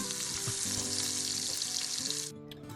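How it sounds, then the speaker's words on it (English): A beef steak sears in a hot pan with a loud, steady hiss and crackle of fat that drops away abruptly near the end, leaving a faint hum. "So we're gonna sear the steak here."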